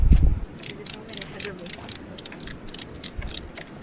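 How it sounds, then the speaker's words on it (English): A ratchet strap is cranked to haul a load up, giving a series of close, quick mechanical clicks in uneven bursts, with a low thump at the start. "I'm going to use some ratchet straps."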